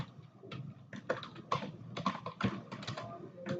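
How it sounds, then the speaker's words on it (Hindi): Live typing practice on a computer keyboard for a junior assistant typing test: rapid, irregular key clicks and clacks with louder spacebar or key strikes, steady and close throughout with no talking. "अब लाइव टाइपिंग है"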